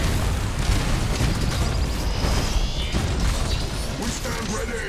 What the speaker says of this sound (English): We're going to dump a Nova cannon on them